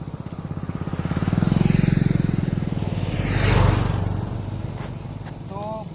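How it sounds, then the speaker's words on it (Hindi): Motorbikes on a road, each passing with a loud rising and falling engine drone, the first swelling close by and a second approaching and receding. "तो बाइक का आना जाना काफ़ी रहता है,"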